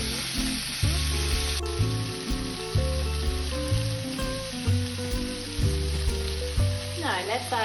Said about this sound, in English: Just put it at a little simmer so they don't burn.